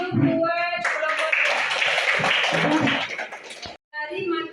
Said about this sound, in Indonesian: Jadi tepuk tangan dulu buat kelompok